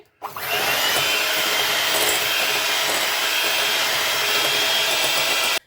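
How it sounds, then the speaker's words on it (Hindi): Milk cream (malai) is beaten for a cake batter, making a loud, continuous whirring rush that starts abruptly and runs steadily without a break. No one speaks over it. "सबसे पहले हम यहाँ पर मलाई को बीट करेंगे।"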